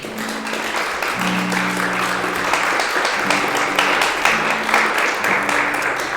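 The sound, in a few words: applause in church meeting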